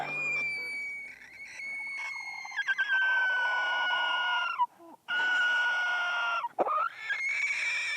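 Roosters kept as household guard birds crow loudly and close, one long strained call after another with brief clucks, filling the clip with no talking.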